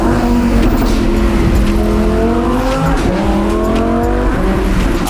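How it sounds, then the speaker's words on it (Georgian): A powerful Lamborghini Huracan V10 engine rumbles and revs continuously at close range, pitch rising and falling in smooth sweeps at low speed, with no voices. "ამ ძრავს ნამდვილად გამორჩეული და სახასიათო ხმა აქვს"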